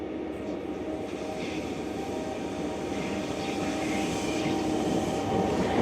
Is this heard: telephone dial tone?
no